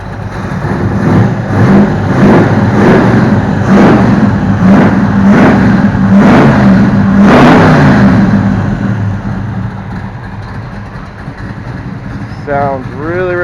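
A big block Chevy V8 fitted in a 1933 Pontiac runs loud and close, rising in a series of about eight rhythmic revs over a rumbling idle before settling back down.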